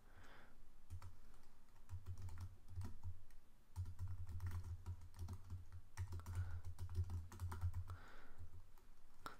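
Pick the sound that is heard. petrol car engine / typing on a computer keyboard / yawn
typing on a computer keyboard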